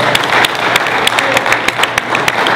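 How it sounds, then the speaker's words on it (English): Crowd at the Aboriginal Summit 2014 claps loudly and continuously, individual sharp hand claps popping out of a steady, close, full-room round of applause. "Please give a round of applause."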